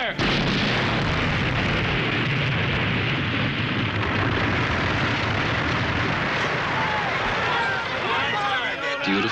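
A German tank gun fires and a bridge blows up in a wartime comedy scene, heard as a continuous loud roar of blast and rumbling debris that fills the whole stretch, with faint voices at the end.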